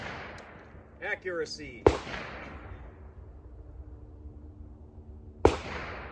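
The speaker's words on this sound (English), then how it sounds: "20 feet away, CCI Stinger" A .22 LR rifle firing CCI Stinger rounds from about 20 feet away gives two sharp, loud cracks several seconds apart. Each crack rings out briefly, and someone speaks once between them.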